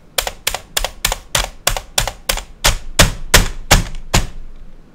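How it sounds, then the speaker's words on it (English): Typing on an old computer keyboard, about a dozen loud, hard clacking keystrokes in a steady rhythm, close and clattery, with no voices. "This is the sound of my old keyboard."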